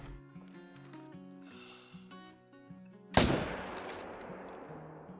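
A single loud rifle shot rings out in the hunting game Call of the Wild, cutting through a steady musical background and followed by a long, fading echoing tail.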